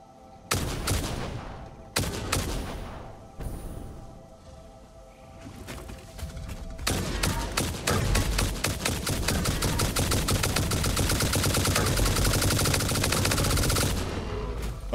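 Rapid gunfire from turbo ammo in the video game Satisfactory. A few separate shots come first, then a dense sustained burst runs for about eight seconds, loud and close, with no talking.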